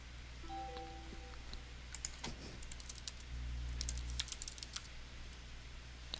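Computer keyboard keys tapped in short bursts during online account setup, light quick clicks in a quiet room with a faint background hum.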